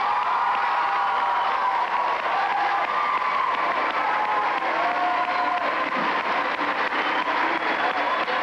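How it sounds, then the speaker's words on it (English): Sustained applause from a large arena audience at the 1985 World Figure Skating Championships fills the space as a steady, dense roar with scattered cheers, reverberant and continuous throughout. "would you please give a big round of applause for the United States ladies single figure skating champion, Providence's own Tiffany Chin."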